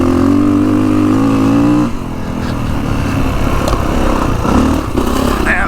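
A Kawasaki KX450X dirt bike engine roars loud and close at full throttle on an off-road ride, holding a steady high drone before its pitch drops and the roar turns rougher and more uneven.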